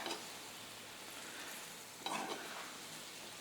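Lomo saltado with freshly added cilantro and green onions stirred in a hot pan, a soft continuous sizzle with one brief scrape of the spatula partway through; fairly quiet, no talking.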